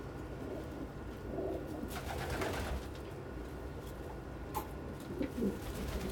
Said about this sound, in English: Pigeons are communal feeders, and if they can't feed communally, they can't bond together.